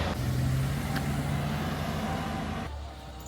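A smoking tour van's engine labors up a mountain road toward Hehuanshan, a steady low drone filling the cabin that eases and drops off near the end, with no talk over it.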